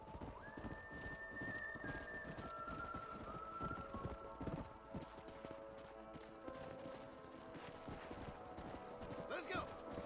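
Horses in the Red Dead Redemption video game trot with steady, close clip-clop hoofbeats and snort now and then, with faint bird calls and a voice talking over the hoofbeats.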